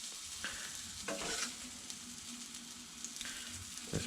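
Black beans frying in a seasoned pan, with a steady quiet sizzle and intermittent scraping stirs of a utensil against the pan, close by and without talk.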